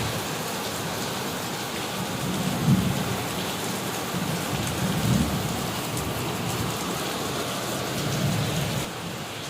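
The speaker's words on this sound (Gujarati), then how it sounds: "એટલો બધો વરસાદ છે" Heavy rain pours down in a thunderstorm as a loud, steady roar, with low rumbles of thunder rolling in a few times beneath the downpour.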